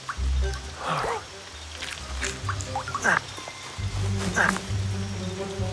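Heavy rain pours steadily over a flooding outdoor spot by the water, a dense hiss running the whole time, while people talk and laugh close by over it.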